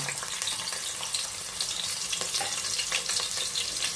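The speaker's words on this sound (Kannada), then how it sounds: "ಆಯಿಲ್ ಬಿಸಿ ಆಗಿದೆ, ಆವಾಗಲೇ ಅರ್ಧ ಈರುಳ್ಳಿ ಕಟ್ ಮಾಡಿ ಇಟ್ಕೊಂಡಿದೆಯಲ್ಲ ಅದು ಹಾಕೋಣ." Chopped onion hits hot oil for a mutton keema sambar, a loud, close, crackling sizzle that spits and bubbles continuously, with no talking.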